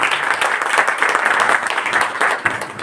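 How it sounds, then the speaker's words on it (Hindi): Loud, steady applause from an audience at a school International Women's Day celebration, honouring children who had just danced and sung; dense continuous clapping fills the whole stretch with no voices over it. "आप सभी के लिए एक बार पहले जोरदार तालियां हो जाएं"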